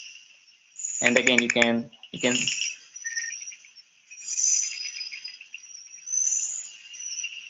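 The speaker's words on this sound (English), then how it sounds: "As the name suggests, it's called Glandular Bushfrog." Glandular Bushfrog calling, a series of high, thin chirping pulses repeated at intervals, moderately close, with someone speaking over the start of the recording.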